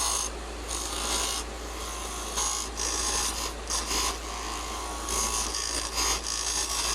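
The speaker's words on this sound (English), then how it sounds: "Switch over to my little mini skew. I'm going to try and even this a little." A rough, rasping scrape of a small skew chisel cutting a spinning wooden chess piece on a lathe comes in repeated bursts over a constant low motor hum.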